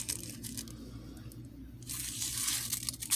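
Freshly sharpened Morakniv 510 knife cutting through curled material, a soft tearing, crunching slice that swells and sharpens near the end, close and alone.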